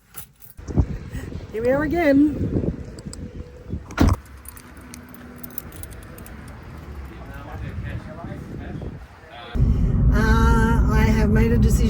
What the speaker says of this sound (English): That's my car keys.